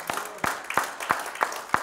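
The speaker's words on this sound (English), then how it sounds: "Can you give Him a hand clap?" Sparse hand clapping from a church congregation, with six distinct claps in an even rhythm, each about a third of a second apart, over a quiet, murmuring background.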